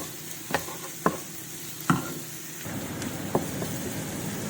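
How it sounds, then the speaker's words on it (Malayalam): Onions and green chillies frying in a pan while being stirred, a steady sizzle with a handful of sharp scraping clicks from the spoon, close and alone without talk. "ഉള്ളി ഒന്ന് വാടിയതിന് ശേഷം നമ്മൾ അതിലോട്ട് പച്ചമുളക് ഇടുന്നു. വീണ്ടും നന്നായിട്ട് ഇളക്കുക."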